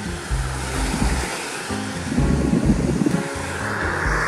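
Early-summer Sea of Japan surf on an evening with a fairly strong onshore wind: a continuous rushing wash of breaking waves with low wind rumble on the microphone and surges that swell louder midway.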